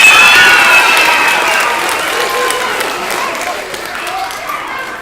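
A room of children clap and shout together during a name-reading event, loud at first and gradually thinning, with a mix of cheers and overlapping voices.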